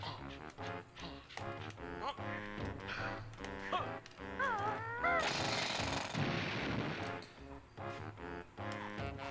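The Bill Drill move in the video game Banjo-Tooie smashes a boulder: a loud, rapid, gritty hammering burst of about two seconds cuts through the bouncy game music and sound effects.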